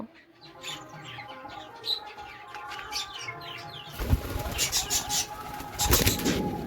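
An unfamiliar pigeon in a residential colony, with soft cooing and chirps and a burst of flapping wings, while a person talks nearby.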